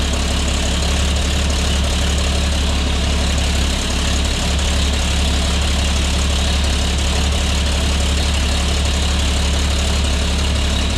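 A custom 1950 Chevy engine idles, a loud, steady, close low rumble that holds without change for the whole stretch, with no talking.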